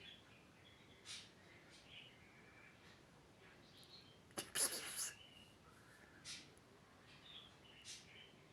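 A small yellow pet budgerigar chirps indoors in a few short, faint, high calls spread across the stretch, with a brief louder burst of chatter midway over a quiet room hiss.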